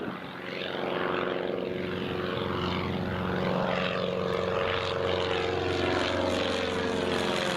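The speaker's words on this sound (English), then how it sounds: "there's the Piper just departing again" A Piper propeller plane departs from Newcastle International Airport with a loud, steady droning engine hum that swells slightly and holds for the whole stretch.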